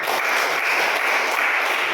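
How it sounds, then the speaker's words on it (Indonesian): Classroom applause for a student group that has just finished presenting, a steady dense clatter of many hands filling the whole moment without a break. "Tepuk tangan untuk kelompok 3."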